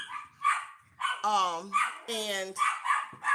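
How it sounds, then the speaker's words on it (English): A dog barks several times in quick bursts, close by, with a few higher yelps mixed in, while a person speaks briefly. "excuse me, that's my dog barking."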